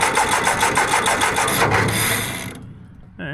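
A small engine on an old Asplundh wood chipper cranks with a rapid, rhythmic chugging, then catches and runs briefly before cutting out, followed by a short mechanical whine.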